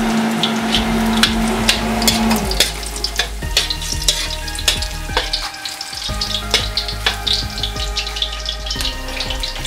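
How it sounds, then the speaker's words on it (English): Garlic sizzles and fries in a pan as the base for Filipino adobo, a steady crackling hiss with scraping stirs and small clicks throughout, close and alone with no talk. "Throw on the garlic first. You want to cook that until it's nice and brown."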